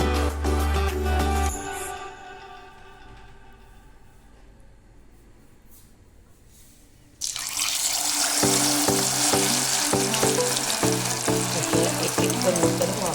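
Paneer pieces coated in rice flour batter drop into hot oil, first a fading hiss, then near quiet, then a sudden loud, dense, bubbling roar of deep-frying that holds steady with faint clatter beneath.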